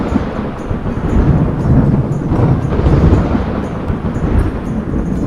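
A heavy night thunderstorm rumbles continuously with low, rolling swells and a broad wash of wind and rain, loud and close throughout, with no voices.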